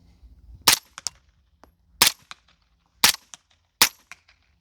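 Four suppressed rifle shots through a DeadAir Wolfman suppressor at a tree about 30 yards away: sharp, loud cracks spaced about a second apart, each followed by a quieter echo or impact tap, with no talking.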